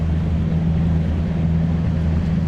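Fishing boat outboard motor idling on a lake during a bass tournament, a steady low droning hum with a constant tone, close and alone with no talk.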